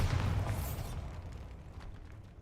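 A Bombarda blasting spell goes off in Hogwarts Legacy: one loud, broad burst at the start that rolls into a low rumbling decay lasting a couple of seconds, with no talking over it.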